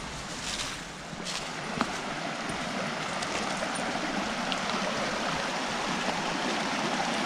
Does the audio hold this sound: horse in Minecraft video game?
no